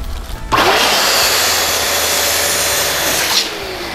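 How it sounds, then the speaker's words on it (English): An electric inflator blows air into a latex balloon for a foil Union Jack centrepiece, a loud steady whooshing motor drone starting abruptly and running evenly for about three seconds before cutting off, with no talking. "and then inflate the latex again"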